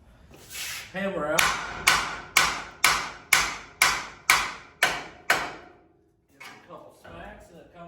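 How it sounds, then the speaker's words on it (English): Hammer blows on steering parts of a 1968 Chevy C10 pickup during front-end work: about eight sharp, evenly spaced metallic strikes, close and loud, followed by a pause and a few lighter knocks. "Hammer out."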